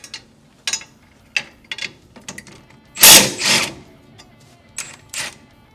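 A 14 mm wrench works on coilover suspension parts of a 2022 WRX, giving a string of short, close metallic clicks and ticks with one louder, rougher burst midway.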